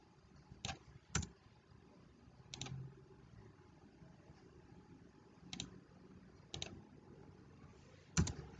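Several sharp computer mouse clicks spaced irregularly across a quiet background, some single and some in quick pairs, heard during spreadsheet work.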